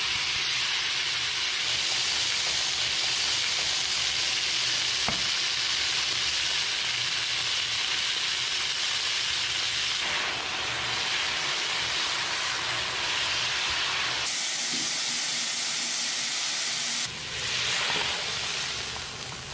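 Beef fries in oil in a pot with a loud, sustained hiss and sizzle lasting throughout, swelling briefly as more meat goes in, and no one speaks.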